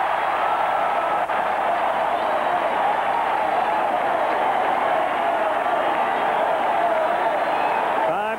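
Steady roaring crowd cheering fills a baseball stadium during a 1981 AL Western Division Series Game 3 in Oakland, with the fans on their feet; dense, continuous broadband noise holds at a constant level throughout.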